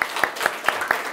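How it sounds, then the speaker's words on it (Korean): An audience at a bodybuilding training session claps in a brief burst of scattered, light handclaps, about five distinct claps in a little over a second. "뭐 그렇다면 박수 한번 주세요."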